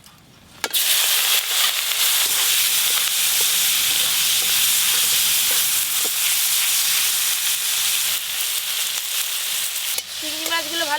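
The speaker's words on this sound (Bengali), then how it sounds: "ওই একই তেলে চিংড়ি মাছগুলো ভেজে নেব।" Prawns fry in hot oil, a loud, dense, continuous sizzle that bursts in suddenly after a quiet start, with occasional scraping stirs, before dying down at the end.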